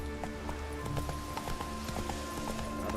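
Roach the horse gallops in The Witcher 3: Wild Hunt, a quick run of hoofbeats over steady game music and ambience, moderately loud and continuous.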